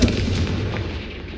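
A Confringo blasting spell bursts in Hogwarts Legacy, a loud, dense boom-like impact with rumbling low end sustained across the short moment, heavy and close.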